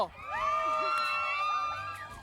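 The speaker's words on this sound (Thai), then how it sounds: "อ้าวขอเสียงกองเชียร์ดัง ๆ หน่อยแล้ว" A crowd of supporters cheers and shouts loudly at the Super Balance Thailand 2024 final competition, with high excited voices and whoops sustained for about two seconds.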